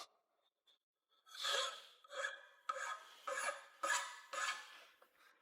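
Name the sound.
hand file filing forged steel wing nuts in a vise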